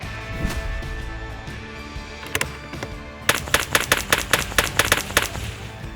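A .22LR rifle fires at an outdoor range with targets out to 200 yards. Several sharp cracks come first, then a quick, regular string of reports that each decay briefly. The shots are moderately loud and nobody speaks.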